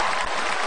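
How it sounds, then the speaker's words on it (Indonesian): Audience applauding Pak Ahok at a comedy-style public event, a steady wash of clapping from a crowd throughout, close and fairly loud. "Tepuk tangan dulu dong untuk Pak Ahok."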